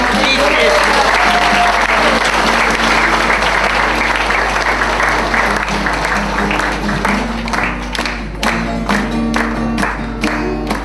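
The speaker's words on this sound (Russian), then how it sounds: "Давайте прославим нашего Господа аплодисментами." A church congregation breaks into sustained applause during a water baptism service, dense clapping at full volume that thins toward the end as a voice begins speaking over it.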